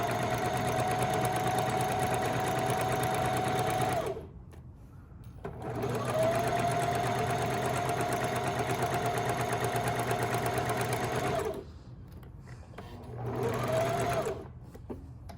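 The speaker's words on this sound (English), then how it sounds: "We're sewing down the first side first." Loud steady whirring of a sewing machine stitching tote bag fabric, running in long bursts separated by two brief pauses where the needle stops and the fabric is pivoted.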